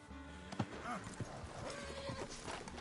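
A horse in the video game Red Dead Redemption 2 clip-clops away at a trot with a brief whinny, its hoofbeats faint and steady against a quiet outdoor woodland backdrop.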